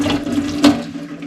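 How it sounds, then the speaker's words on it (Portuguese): Hot water from a tap pouring and splashing into a sink for washing, a short loud gush with a brief burst of splashing partway through. "Eu lavo com água quente mesmo."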